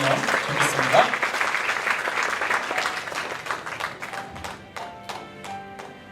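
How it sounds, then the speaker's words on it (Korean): Loud, dense applause from an audience at a church gathering welcomes a speaker to the front. It is sustained and close for about four seconds, then thins into scattered claps. "자, 박수로 한번 또 맞아주시면 좋겠습니다"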